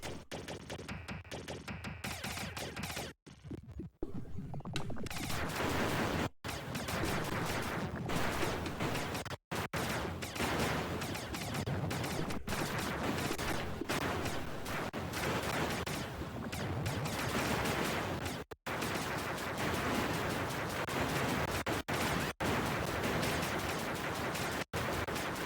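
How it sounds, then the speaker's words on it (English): Gunfire aimed at the player in the game Starflight, a dense, loud barrage of rapid shots and crackling bursts filling the whole stretch, with only brief gaps. "Something's shooting me"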